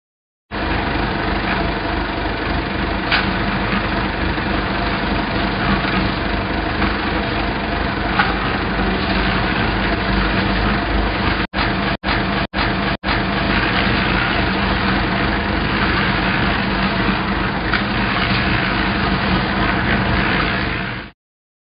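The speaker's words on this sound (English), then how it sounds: "Harvester." Harvester engine runs continuously at a steady, fairly loud rumbling idle with a rough mechanical texture, briefly broken by a few short dropouts midway, with no voices.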